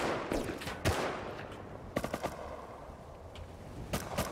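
Bursts of gunfire in the online survival game Rust at an oil rig, sharp cracks and rapid clusters of shots at varying distances, some near and loud, others further off, with no talk over them.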